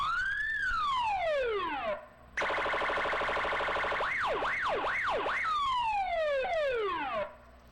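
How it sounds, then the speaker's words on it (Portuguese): An electronic siren sound effect cycles through a long falling wail, a rapid warbling section and a fast yelp before wailing again, loud and continuous with no voices. "Tocou a sirene"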